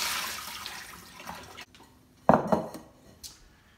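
Sticky rice that soaked in water for two to three hours is drained in a kitchen: water trickles and splashes while a pot or strainer clatters, with a few louder knocks partway through and no talking.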